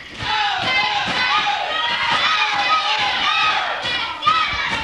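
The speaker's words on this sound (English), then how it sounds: "Boy, the crowd is wild tonight." Wrestling crowd at a live event, loud continuous cheering and shouting with bursts of yelling, clearly present alongside talk.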